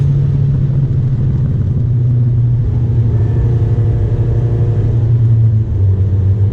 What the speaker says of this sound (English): Just in 6th gear right now, cruising